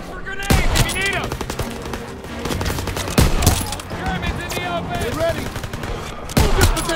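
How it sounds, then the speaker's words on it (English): Rapid bursts of rifle and machine-gun fire ring out in a World War II battle from Call of Duty: WW2, loud and repeated, with shouted voices in the mix. "Suppressive fire! Keep firing!"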